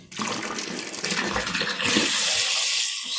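Water runs loudly and steadily into a home brew beer container, a continuous rushing, splashing flow that brightens in tone partway through as the vessel fills.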